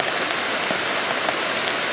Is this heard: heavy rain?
yes